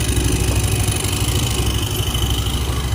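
A Yamaha Mio MXi scooter engine, refitted with replacement parts but still sputtering, runs at high RPM with a loud, close, continuous buzzing drone that holds fairly steady, with no voices.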